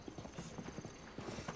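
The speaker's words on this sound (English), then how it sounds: "It's just kind of nice to get a horse and just... ride? Yeah. Trot along." Horse hooves trotting in Zelda Breath of the Wild, a quick regular clip-clop of evenly spaced thuds over steady game ambience, moderately close and fairly quiet, with no talk during the strides.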